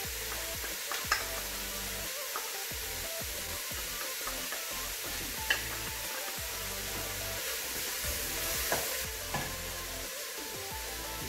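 Garlic, onions and peppers sizzling steadily in a hot pan, with a spoon stirring and scraping through them and a few faint clinks, close and continuous with no voices.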